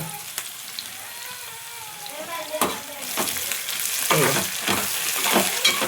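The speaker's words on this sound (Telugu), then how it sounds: "చూడండి మంచిగా వేగుతుంది కదా" Chopped onions sizzle and fry in a pan for potato kurma, a steady crackle with stirring scrapes joining midway, close and fairly loud.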